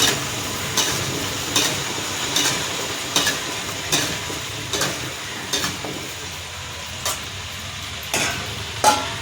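Banana flower stir-fry being stirred in a pan, a steady frying sizzle broken by sharp, regular scrapes of the utensil against the pan about once a second, close and clear with no talking.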